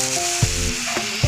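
Chili sputters in hot oil in a wok along with panch phoron and bay leaf, a close, steady sizzle broken by a few sharp crackles and stirring knocks, with no talking.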